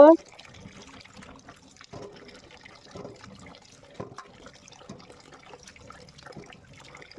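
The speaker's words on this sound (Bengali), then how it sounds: "আর আমগুলো ধুচ্ছি" Mangoes and lychees are washed by hand in water, with faint splashing and trickling in soft, irregular bursts while a voice speaks over it.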